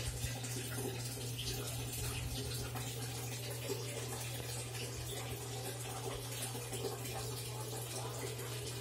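A tub filling from a tap to bathe a Chow Chow gives a steady, soft rush and patter of running water with a low constant hum beneath, no talk.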